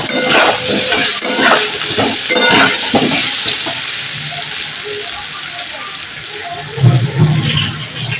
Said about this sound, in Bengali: এবার আমি আলুটাকে ভালো করে লাল লাল করে ভেজে নেব।